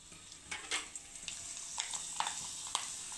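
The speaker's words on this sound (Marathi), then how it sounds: "इथे कढईमध्ये मी तेल तापवून घेतलेलं आहे आणि आता कुरडई टाकू" Wheat kurdai frying in hot oil in a kadhai, a close soft sizzle with scattered crackling bursts and stirring scrapes, fairly faint and without talk.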